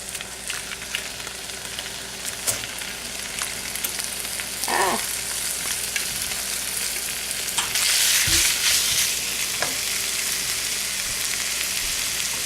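Bacon fries in a pan with a close, continuous crackling sizzle and scattered sharp pops, growing slightly denser toward the end. No voices.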